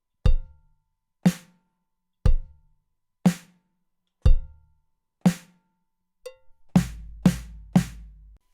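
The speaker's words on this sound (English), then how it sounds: "you can move your right hand over to the floor tom," Drums play alternating single hits, a deep floor tom and a sharper snare, evenly spaced and close, ending in a quick flurry of strikes.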